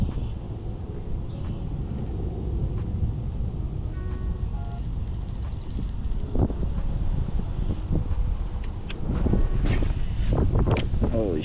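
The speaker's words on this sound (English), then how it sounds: "the wind's taking me so quick" Wind gusts across the water on a kayak fishing trip, a steady low rumble of buffeting on the microphone with faint splashes, growing stronger toward the end.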